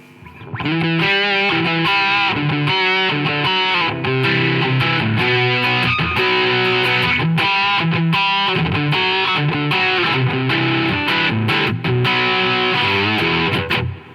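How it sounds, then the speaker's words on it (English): Heavily distorted electric guitar chords and riffs play continuously through a DOD Gonkulator pedal's grunge distortion, loud and gritty with a thick, saturated tone. "So that's the grunge distortion."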